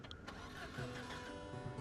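Car engine cranking in the Project Zomboid video game, a steady dense mechanical churn lasting a couple of seconds with no clear catch, heard alone and fairly close.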